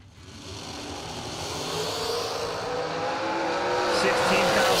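Drag race cars launching side by side down a bracket-racing strip, a loud, building engine roar with rising pitch that swells steadily over several seconds, with crowd and announcer-like chatter mixed underneath.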